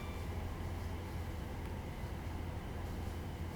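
A train in Train Sim Classic runs between Manchester Piccadilly and Liverpool Lime Street, producing a steady low rumble and hum throughout, constant and unbroken with no talking.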